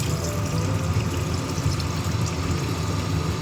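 Water poured into a pan of sautéed cauliflower, potato and fish curry, a steady broad rushing pour with low gurgling, continuous and fairly loud throughout.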